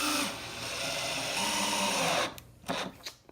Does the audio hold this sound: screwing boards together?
yes